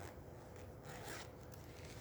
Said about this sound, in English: bag, but it has a zipper closure.